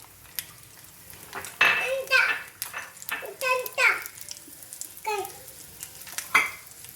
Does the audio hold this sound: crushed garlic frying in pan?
yes